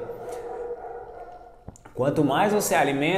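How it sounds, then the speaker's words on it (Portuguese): A female dog barks and yips nearby indoors, a short burst of sharp, pitched barks coming in after a quieter stretch, with a person talking around it. "a cachorra está latindo"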